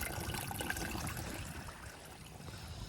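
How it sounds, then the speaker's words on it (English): Rainwater left over from a heavy downpour runs down a neighbor's gully, a close, steady trickle and gurgle of flowing water that fades slightly toward the end. "You can see this gully that the neighbors have still flowing here."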